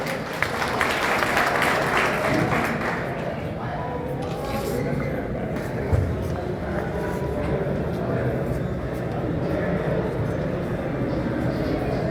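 An audience applauds at a meeting of traditional healers' council in Vijayapura, a broad, sustained wash of clapping that fades slightly before a brief thump, with voices mixed in.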